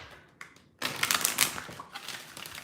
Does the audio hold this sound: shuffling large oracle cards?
yes